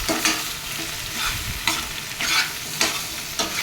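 Drumstick (moringa) fry being stirred in a sizzling pan, with repeated scraping strokes about every second over a continuous close fry.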